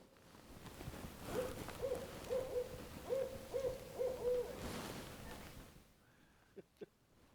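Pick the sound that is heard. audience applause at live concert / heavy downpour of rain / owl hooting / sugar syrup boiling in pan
owl hooting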